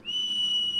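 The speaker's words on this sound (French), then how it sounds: "on lui avait laissé un sifflet, elle appelle au secours" A single clear, sustained whistle is blown for help in the game Xuan Yuan Sword VII, rising quickly to a steady high tone that lasts under a second.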